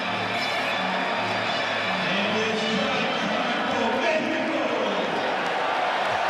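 Rugby sevens stadium crowd at the 2011 Hong Kong Sevens roaring as Mexico scores its first try against Scotland, a dense, sustained wall of distant cheering that holds steady throughout, with commentary voices over it.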